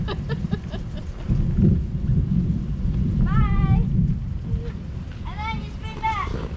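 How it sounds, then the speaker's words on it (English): A low rolling rumble of thunder runs throughout, with a voice speaking briefly over it in a couple of short bursts. "Just a little thunder."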